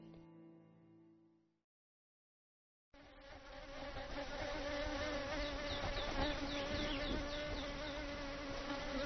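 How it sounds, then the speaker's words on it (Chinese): Chinese honeybees gathering nectar among flowers in Shennongjia give a faint, close insect drone that fades out, then after a short gap returns as a fuller, continuous buzzing. "生长于神农架的这种蜜蜂叫做中华蜜蜂，这是中国最古老的蜜蜂"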